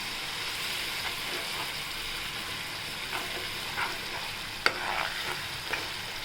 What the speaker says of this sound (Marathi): आपण आलं लसणाची पेस्ट आहे ती टाकायची ती परतून घेऊया छान